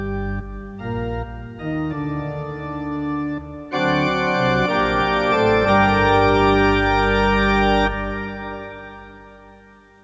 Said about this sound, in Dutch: is het veel mooier met de pedaalkoppels.